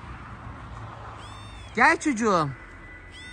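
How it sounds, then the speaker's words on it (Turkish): A cat stuck up in a tree gives two drawn-out, rising and falling meows in quick succession, loud and close, after a person speaks briefly over quiet outdoor background. "Buraya kedi kalmış burada."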